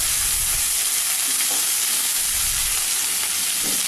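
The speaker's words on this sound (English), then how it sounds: "Fry this till the onion becomes light brown" Finely chopped onion, curry leaves and mustard seeds fry in hot oil with a steady, loud, close sizzle and faint pops, no voices.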